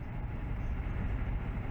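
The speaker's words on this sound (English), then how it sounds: "here you are on a train going from town to town." Passenger train travelling between towns in China, heard from inside as a steady low rumble and rolling rail noise, continuous and fairly loud throughout with no talk.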